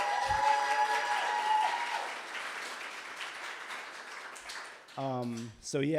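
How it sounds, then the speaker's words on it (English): An audience at a poetry, music and film event applauds the performer Bre, steady clapping under tonal music that fades, before a voice speaks near the end. "Huge round of applause for Bre for bringing us all together."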